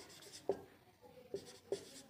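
A maths equation is written out by hand in a quiet room, with three faint separate scratchy strokes spaced across about two seconds, close and alone.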